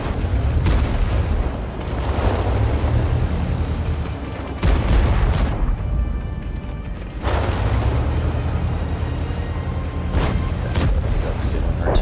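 Heavy booming artillery fire and explosions from the video game World of Tanks, with loud repeated blasts over a continuous rumbling battle din and a brief quieter gap midway.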